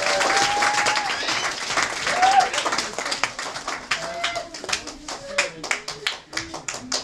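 Fathers and sons at a learning program finale give a round of applause, sharp clapping that starts under some voices and breaks into a scattered, uneven patter.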